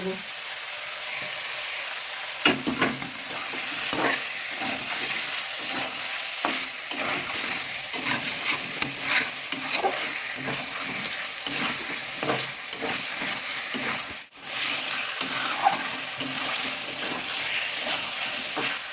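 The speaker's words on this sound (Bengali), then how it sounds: "মাংস দিয়ে তেল বেরিয়ে গেছে কষাতে কষাতে" Chicken pieces sizzle and fry steadily in hot oil as a spatula stirs and scrapes the pan, a continuous close hiss with rhythmic scraping throughout and a brief pause partway.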